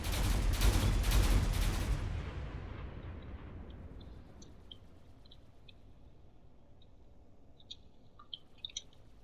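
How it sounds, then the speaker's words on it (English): Cannon shots in a space battle video game boom together in a heavy, rumbling volley that fades into a long decay, with small faint effects afterward. "And there's a lot of cannon shots coming in."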